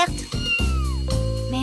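A cartoon cat gives a few loud, drawn-out meows in quick succession, close and clear, with a voice briefly audible at the start.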